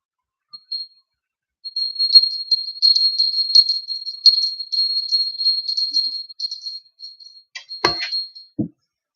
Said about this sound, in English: Let me clear the energy here with my bell